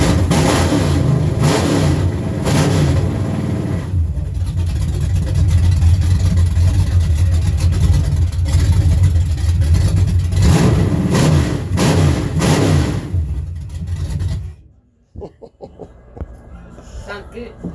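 A loud, throaty 1963 GMC farm truck engine with a mild cam revs repeatedly with a lumpy, uneven idle between pulls, close by, then cuts off abruptly near the end.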